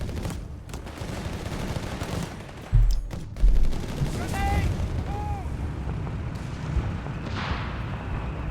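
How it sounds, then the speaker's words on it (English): A delayed fuse artillery barrage in Company of Heroes 3, with a string of heavy booms and crackling gunfire over a busy battlefield din while a commentator talks throughout. "We got a delayed fuse barrage here."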